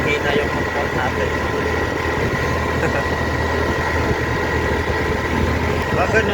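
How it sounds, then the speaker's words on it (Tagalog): Motorcycle engine running steadily on a mountain road in Bukidnon, a continuous low idling hum with rumbling vibration and wind noise throughout, no clear revving. "Parang hihina yung motor natin."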